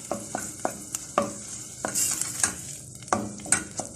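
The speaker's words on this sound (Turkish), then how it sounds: "Şöyle birazcık salçayla soğanı da karıştırıyorum." Onion and tomato paste stirred in a hot pan: a spoon scrapes and clicks against the pan in irregular strokes over a soft sizzle, close up, with no voices.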